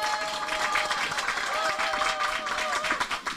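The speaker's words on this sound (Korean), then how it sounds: "다들 환호 부탁드리겠습니다." A crowd of citizens at a Uijeongbu political meeting cheers and claps together, a dense, continuous wash of applause with voices threaded through it, sustained for a few seconds.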